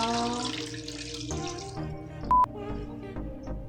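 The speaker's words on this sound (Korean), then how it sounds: "물 부어줄게요" Water poured into a pot while cooking Korean braised chicken (dakbokkeumtang), a steady running pour that changes pitch as it fills, with a short sharp clink partway through.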